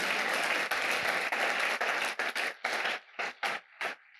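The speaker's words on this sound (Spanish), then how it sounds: "Denle un aplauso al Señor si quiere." Church congregation applauding during a sermon, a sustained burst of clapping that breaks into choppy, fading bursts and trails off into silence.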